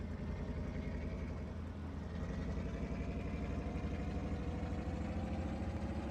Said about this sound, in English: Oh, I love that sound of this motor.